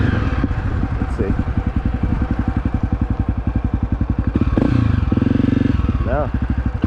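A Honda CRF250F dirt bike engine runs steadily while riding, a loud, close, rapid pulsing putter that swells briefly and dips near the end.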